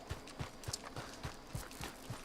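Horse hooves clip-clopping in the video game Red Dead Redemption 2, a steady walking rhythm of soft, evenly spaced thuds, fairly faint and close.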